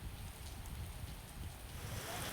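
Steady monsoon rain falls in North Gujarat on an evening of strong wind, a dense and even hiss that stays at a constant level throughout with no voices.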